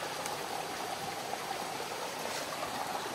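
Water rushes over rapids in a small stream on a rural plot, a steady, close, broadband roar with no pauses and no voices.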